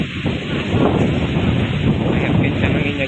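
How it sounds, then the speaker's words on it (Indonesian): Strong wind blows outdoors in a village, buffeting the microphone with loud, continuous roaring gusts. "lihat kencang anginnya guys."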